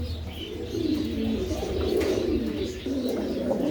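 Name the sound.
pigeons cooing at a home pigeon farm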